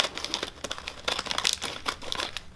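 A plastic bag is cut open with scissors, giving close, rapid crinkling and crackling with short snips and rustles in an irregular run.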